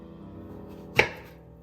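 A single sharp knife chop through a plantain, one crisp close cut against a quiet background.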